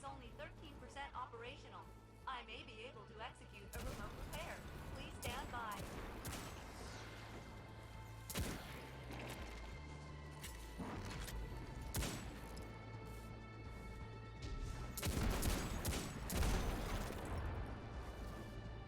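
Hand cannon gunfire in the video game Destiny, repeated booming shots and bursts over dense game music and effects, with someone talking throughout.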